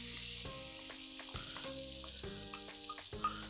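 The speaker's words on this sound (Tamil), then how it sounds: "நெய்யில் வந்து நல்லா இந்த சின்னதாக சாப் பண்ண பலாப்பழம் இந்த ஜாக் ஃப்ரூட் ஆட் பண்ணிக்கிறோம்." Small chopped jackfruit pieces fry in ghee in a pan, giving a steady, quiet sizzle that runs throughout, with soft tonal sounds layered over it.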